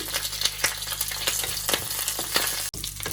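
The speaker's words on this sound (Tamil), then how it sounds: "இப்போ பார்த்தீங்கன்னா இஞ்சி வெள்ளைப்பூடும் எல்லாம் இப்படி பொரிஞ்சு கொண்டு இருக்குது" Sliced ginger and garlic fry in hot oil with a steady, dense sizzle and crackle and occasional soft stirring scrapes. The sound is close, continuous and even, with no voices.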